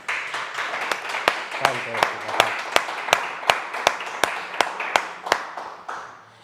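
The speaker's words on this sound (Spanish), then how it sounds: "Dale un fuerte aplauso a Cristo Jesús" Applause from a church congregation during a worship service, heard as steady, rhythmic, sharp claps at a moderate distance, roughly twenty in a row that gradually thin out, with a voice speaking underneath.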